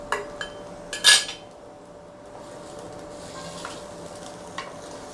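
Chicken stirred in a karahi with garlic ginger paste, ginger and green chilies, a couple of sharp utensil clanks at first, then a soft low sizzle with faint scraping.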